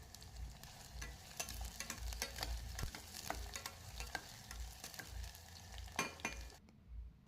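Cloves and black pepper sizzle and fry in hot oil in a pressure cooker with bay leaf and onion, a steady close crackle with spoon stirring and scraping throughout, no talk.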